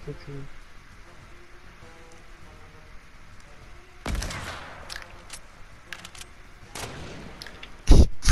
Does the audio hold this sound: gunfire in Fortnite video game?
yes